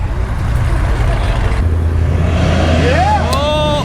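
A car launches hard down a drag strip with its tires spinning, a loud, steady engine-and-tire roar close by, with spectators shouting over it near the end.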